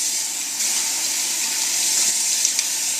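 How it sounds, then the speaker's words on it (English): Cold tap water runs steadily from a faucet into a sink, a loud, close, continuous gushing hiss with slight splashy variation near the end. "Get your water coming out as cold as you can and splash your face."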